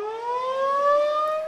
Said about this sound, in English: I have just sent a signal out that has triggered the sirens